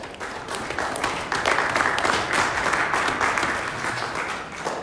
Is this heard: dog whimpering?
no